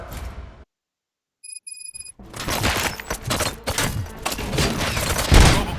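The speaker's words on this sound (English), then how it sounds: "Gunshots?" Dense gunfire bursts in the RoboCop: Rogue City video game, loud and sustained after a short silence, with rapid overlapping shots and impacts building to a heavy hit near the end.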